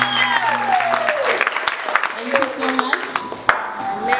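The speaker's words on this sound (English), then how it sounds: "please clap the hands for him?" A church congregation at a Sunday service claps for a pastor, with scattered claps mixed with voices and some tonal sounds in the room, fairly loud and uneven.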